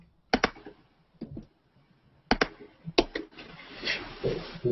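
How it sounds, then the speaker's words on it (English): A computer keyboard is struck hard, with sharp clustered clacks in uneven bursts, close and loud against an otherwise quiet background. "we need to mute whoever's hitting the keyboard hard."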